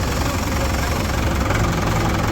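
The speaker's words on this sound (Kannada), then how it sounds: "ಅಷ್ಟೇ ಕಾರ್ ಓಡಿಸೋ, ಇಷ್ಟೇ ಟ್ರ್ಯಾಕ್ಟರ್ ಓಡಿಸೋದು." A tractor engine runs at a steady drone with a low, rumbling throb that stays close and loud for the whole stretch without a break.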